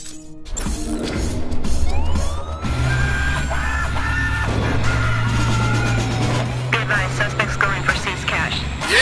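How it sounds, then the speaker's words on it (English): A loud electronic siren ringtone played from a phone wails and warbles continuously with rising and falling pitch, mixed with crashing and shouting effects. "You want to hear my ringtone?"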